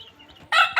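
Short, loud clucks from free-range desi gavran hens in a Konkan village yard, two quick bursts close by, with faint bird sounds before them.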